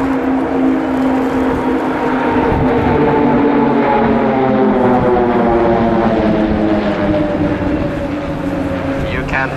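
Nine Pilatus PC-7 propeller aircraft of the Swiss Air Force aerobatic team flying in formation at an air show, a loud sustained droning roar with shifting pitch, while an announcer talks over it.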